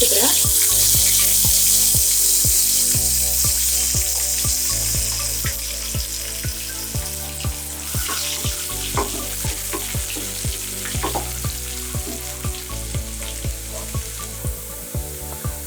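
Chopped garlic hits hot oil in a pan, giving a steady sizzle and spatter broken by repeated clinks and scrapes of a stirring spoon, close by, with faint talk at times.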